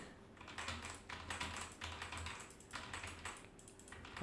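Rapid typing on a computer keyboard while entering text into a table, key clatter coming in quick close bursts with short gaps between them. No one speaks.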